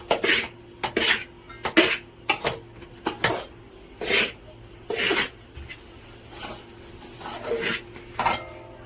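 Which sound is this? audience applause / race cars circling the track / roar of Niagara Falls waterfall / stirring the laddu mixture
stirring the laddu mixture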